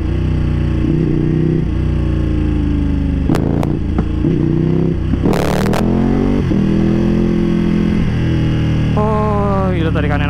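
A Ducati Panigale V2 two-cylinder sport bike with a race-tuned exhaust revs hard in loud, close bursts, the engine note rising and falling repeatedly over about ten seconds.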